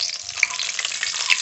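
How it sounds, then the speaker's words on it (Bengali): Whole spices, bay leaf among them, sizzle in hot mustard oil in a kadai for mutton kosha, a steady close crackling hiss with small pops throughout. "মাংসের জন্য এই তেলেই ফোড়ন করে নেব।"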